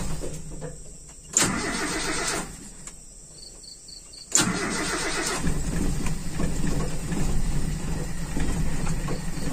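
Carbureted Toyota Kijang engine cranking and catching twice, a loud start near 1.4 s that stumbles and drops away, then a second start at about 4.4 s that settles into a steady, close idle with no talk.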